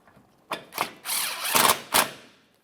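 A socket ratchet snugs a bolt on a 2014-2018 Mazda 3 front lower control arm: four or five short, close clicking bursts separated by brief pauses, with no talk.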